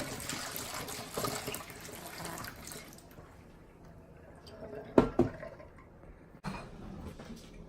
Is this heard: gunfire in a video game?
no